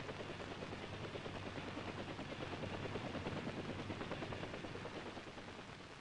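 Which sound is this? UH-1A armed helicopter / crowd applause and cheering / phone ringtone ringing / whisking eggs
UH-1A armed helicopter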